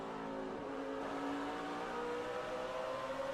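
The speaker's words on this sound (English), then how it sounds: "You hear Harvick pick up the throttle." A NASCAR race car engine at the 2008 Food City 500 roars under open throttle, its droning pitch climbing steadily as it picks up speed, loud and continuous with no voices over it.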